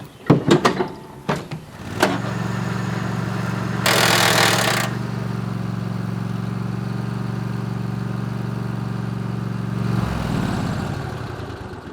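Robotic lawn mower making an odd noise while cutting grass: clanks and knocks at the start, then a steady mechanical hum with a harsh grinding burst and a later shift in pitch, close and loud.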